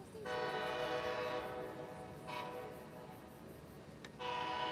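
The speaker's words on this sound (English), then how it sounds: "This is like the fourth train that's come in since we've been down here" An Amtrak train rumbles into Raleigh Central Station with steady rail noise, its horn sounding in long tonal blasts, fading briefly before another loud blast near the end.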